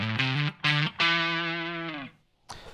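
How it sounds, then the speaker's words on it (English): Electric guitar played on the neck pickup through a Fromel Electronics Si Phuz fuzz pedal: two short fuzzy notes, then a sustained distorted note ringing for about a second before fading, then a brief final attack. "You can hear a little bit of that fuzziness coming in on the neck pickup."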